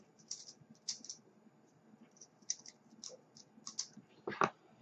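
Nichrome wire being unspooled and cut for a dual triple-parallel coil build, giving faint, scattered metallic ticks and clicks close up, ending in a sharper snip.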